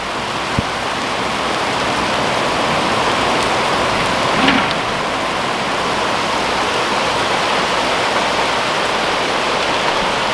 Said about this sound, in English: It decided to rain out.